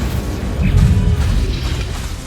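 Incendio fire spell cast in Hogwarts Legacy, a fiery whooshing burst with a low rumbling boom that swells briefly in the middle and then fades under continuing game ambience.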